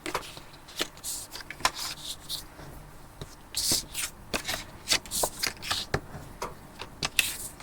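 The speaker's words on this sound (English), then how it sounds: "we'll give those a good burnish" Paper pockets for an album storage wallet being burnished by hand, heard as quiet, close rubbing and scraping strokes in an irregular rhythm with small taps.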